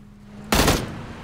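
A single loud burst of gunfire from a PlayerUnknown's Battlegrounds match cracks over a quiet hum and then fades quickly, with no voices over it.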